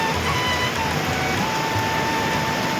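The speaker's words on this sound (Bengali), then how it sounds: "আর দেখুন এখানে কত বৃষ্টি হচ্ছে" Heavy rain falls outside a house in a steady, dense hiss and patter that fills the whole stretch without pause, heard from indoors with no voices over it.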